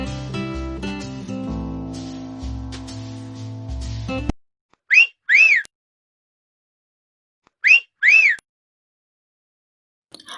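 A pressure cooker cooking mutton lets out two pairs of short, shrill whistle blasts, clearly separated by quiet gaps, after several seconds of music that cuts off abruptly.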